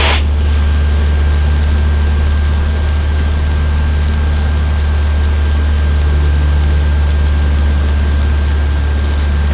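Small training airplane engine during a flight lesson, a loud continuous drone with steady tonal hum and even intensity heard from inside the cabin, with no break.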